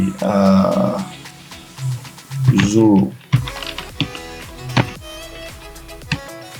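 Typing on a computer keyboard while text is entered, a run of quick clicky keystrokes in irregular bursts, fairly close, with someone talking over part of it.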